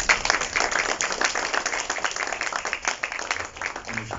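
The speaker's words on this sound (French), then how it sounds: "Sous vos applaudissements, bien sûr." Audience applauding a speaker, a close and lively patter of many hands clapping with a slightly uneven rhythm that dips briefly before picking up again.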